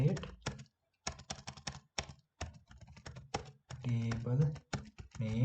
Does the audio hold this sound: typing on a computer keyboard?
yes